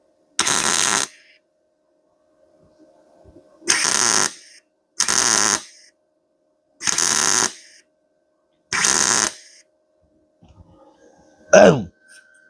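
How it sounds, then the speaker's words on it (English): Short bursts of tack welding join stainless steel to spark plug metal: five separate crackling, buzzing bursts about a second each, evenly spaced with silent pauses between, ending with a brief sharper pop. "So now we're gonna tack stainless to this carbon stuff"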